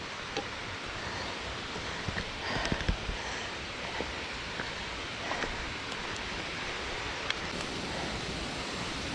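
Granya Falls waterfall in Mount Granya State Park makes a steady, soft broadband rush throughout, with small crackles of nearby rustling on a bush trail.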